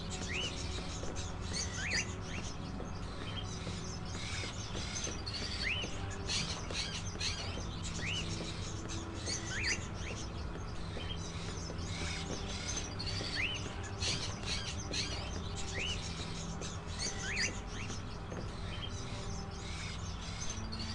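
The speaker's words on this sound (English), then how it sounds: "There's only so many birds." Many small birds chirp and tweet continuously in a game scene from Indigo Prophecy, quick bright calls layered over a steady low ambient hum, no talking.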